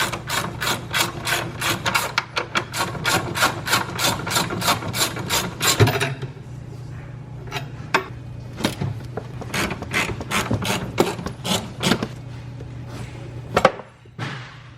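Rapid ratchet clicking in steady bursts as an external Torx 14 bolt on a BMW N55 E82 strut tower is loosened, close and mechanical, pausing and resuming with a few sharper clicks toward the end.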